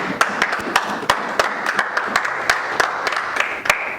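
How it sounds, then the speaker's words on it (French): Congregation in a church breaks into applause, a dense steady patter of many hands clapping with sharper individual claps standing out, sustained and fairly close throughout. "Acclamons pour la parole"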